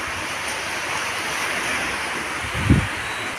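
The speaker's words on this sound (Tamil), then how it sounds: "சாரல் மழை நல்லா அடிக்கிறது." Heavy wind-driven rain lashes down around Kumbakonam as a constant roaring wash of noise with gusty buffeting, and one dull low thump comes near the end.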